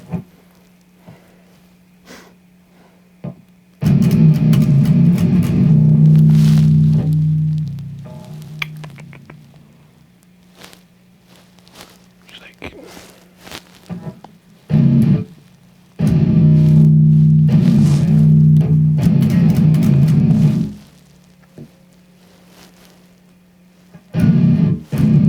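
Electric guitar rhythm riff played through an amp with the delay switched off, loud heavy distorted chugging in two long passages, with a short burst between and quiet amp hum in the gaps.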